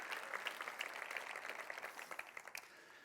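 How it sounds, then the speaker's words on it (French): A church congregation claps after a prayer, scattered individual hand claps pattering over a soft bed of applause, fairly distant and quiet, easing and thinning toward the end. "Comment une bonne main d'applaudissement pour cette prière et la réponse."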